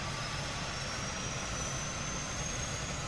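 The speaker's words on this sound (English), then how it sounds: "This is that engine firing up." The jet engine of a Boeing 777-300 spools up in Microsoft Flight Simulator 2020 as heard from outside, a steady, loud broadband roar with a thin rising whine, continuous and without speech.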